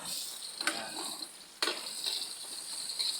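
Garlic and onion frying in a pan, a steady close hiss of sizzling oil with a couple of sharp bursts as pieces go in or are stirred.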